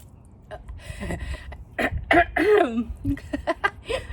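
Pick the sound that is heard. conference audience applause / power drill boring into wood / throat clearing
throat clearing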